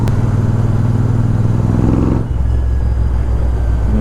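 Royal Enfield Super Meteor 650 fitted with a Red Rooster aftermarket exhaust idles loud and close with a deep, steady thumping rumble, then the note drops slightly and settles back into a lower burble.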